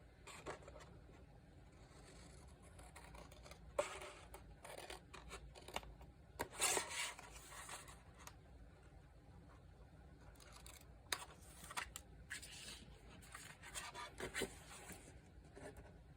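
Scissors make repeated snips and rustles through paper or fabric scraps, close and faint, with irregular bursts of cutting and a couple of louder strokes in a quiet room.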